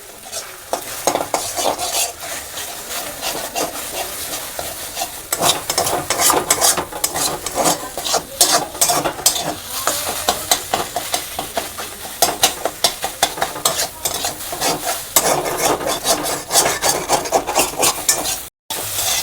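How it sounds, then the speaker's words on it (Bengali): Two eggs scramble in oil with fried onions, a continuous close sizzle under busy, scraping spatula strokes that rasp against the pan almost without pause. "এটাকে একদম ঝুড়ো করে ভাজা করে নেব।"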